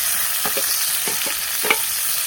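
Tomato stirred into hot oil with onion and curry leaves, cooking in a pan on a farm, giving a steady close sizzle with a few scraping stirs of a spoon against the pan.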